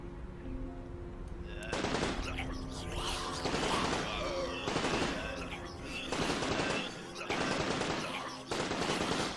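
Rapid AK rifle fire in the video game Unearthed, loud and close, coming in repeated sustained bursts separated by short pauses with no talk over it.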